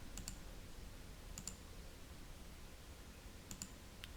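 Quiet computer mouse clicks come in three spaced pairs of short, crisp taps while working in Microsoft Excel, faint over a low background hiss.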